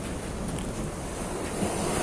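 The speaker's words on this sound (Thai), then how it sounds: "ลมดีมาก ลมทะเลเย็นดีมากครับ คลื่นก็สวย" Sea waves wash onto a beach at Ban Ao Chik in Phang Nga, Thailand, a soft continuous surf rush mixed with gusting sea wind buffeting the microphone, with no voices.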